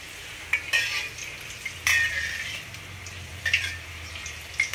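Pakodis sizzling in hot oil on a stove just switched off, a steady soft frying hiss with occasional scrapes and clinks of a spoon stirring in the pan.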